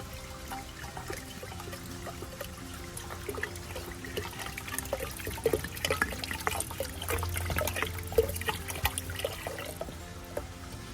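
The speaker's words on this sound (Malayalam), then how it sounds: "അപ്പം ഇതിപ്പം 1 ലിറ്റർ വെള്ളമുണ്ട്, ഞാൻ ഇതിനകത്തോട്ട് ഒഴിക്കുവാണേ." About a litre of water poured into crushed grapes in a jar for homemade wine, a continuous close gurgling and splashing pour that runs steadily for several seconds, with no voices.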